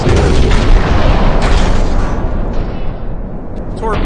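Torpedo explosions rumble in a naval video game, a heavy sustained boom that gradually fades, with a voice faintly audible beneath.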